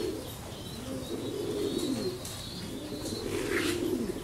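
Pigeons coo at a pigeon farm, with several overlapping low coos repeating close by and a few higher chirps mixed in.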